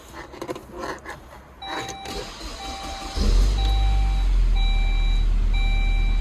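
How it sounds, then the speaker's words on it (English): A 2002 Saab 9-5 2.3T being switched on: chime beeps repeat over interior noise, then a loud, steady low engine rumble sets in after a few seconds as the engine fires. "And I'll just switch the car on."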